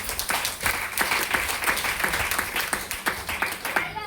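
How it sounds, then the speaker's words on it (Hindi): Audience applause at a business meeting in Patna, steady dense clapping from many hands lasting the whole stretch at moderate loudness, with a faint murmur of voices underneath. "अच्छे के लिए जोर ताली।"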